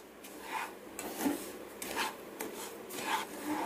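Semolina being stirred as it roasts in ghee in a pan over low heat for rava kesari, a soft rhythmic scraping and rustling repeated about every second, fairly quiet and close.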